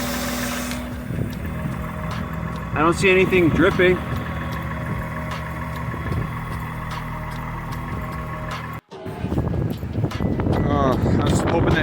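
A car engine idles steadily, with a smooth low hum and a faint mechanical whine that carry through the whole stretch, while a person talks over it and wind rustles the microphone.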